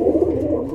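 Racing pigeons coo in a low, steady, throaty murmur at a loft after a 400-kilometre race, close and fairly loud, with no talk.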